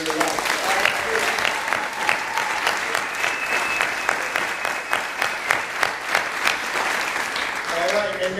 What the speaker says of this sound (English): please give a hearty round of applause for all of these people who are here tonight